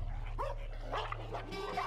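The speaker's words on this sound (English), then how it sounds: "This one has no reason to fear the dogs. Harassed by their barking, it tries to scare them away." Dogs bark insistently at a Tibetan blue bear on the high plateau, several sharp barks and yelps spread over two seconds, close and loud over a steady low rumble of wind or background noise.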